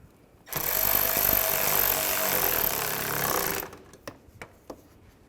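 A power tool runs steadily for about three seconds while bolts are tightened on a 2007-2013 Mini Cooper during a parking light replacement, then stops, leaving a few sharp clicks and taps.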